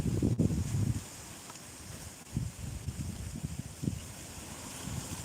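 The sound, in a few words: wind blowing outdoors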